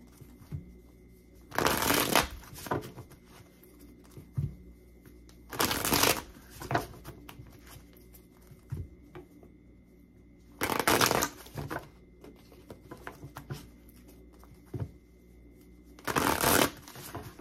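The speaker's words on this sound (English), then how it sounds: "I'm going to shuffle all the cards out first" Tarot cards are shuffled in four separate bursts of quick papery riffling, loud and close, with quiet pauses and a faint background hum between them.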